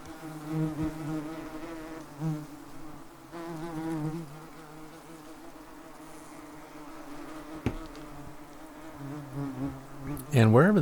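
Yellow jacket wasps drone and buzz steadily around an opened large nest during removal, a close, continuous insect hum with shifting pitch that swells loudest near the end.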